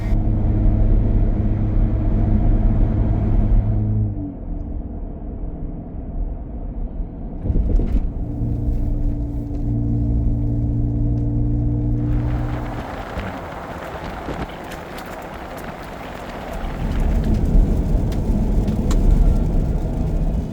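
2025 Ram 1500 Rebel on Pirelli Scorpion XTM AT 295/70R18 tires rolling along a road, a steady low engine and tire rumble from inside the cab that rises, eases and swells again as the truck speeds up and slows.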